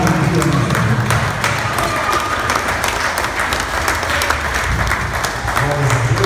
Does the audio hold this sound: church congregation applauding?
yes